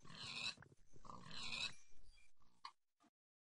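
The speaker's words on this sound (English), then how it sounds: "More pigs." Pigs oink and grunt in a blocky survival video game, several close snorts and squeals over about three seconds, fairly loud, with no talk.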